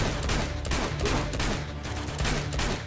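Rapid bursts of gunfire from the video game Uncharted 2: Among Thieves, set in Borneo, crackle continuously and loudly across the whole span with overlapping shots and no talk.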